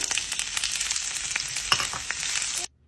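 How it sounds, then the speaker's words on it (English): Bell peppers sauté in hot oil in a pan, a steady bright sizzle with a few soft stirring clatters, close and fairly loud, then cutting off abruptly near the end. "While Addie's sauteing the peppers"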